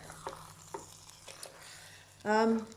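A brief hiss of something melting in a hot pan, with light scraping and stirring clicks before it, close by and fairly quiet.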